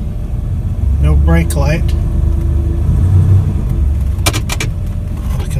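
A 1981 Chevrolet C10 pickup idles without high idle, producing a steady low rumble throughout, with a few metallic jingles near the end and someone talking briefly over it.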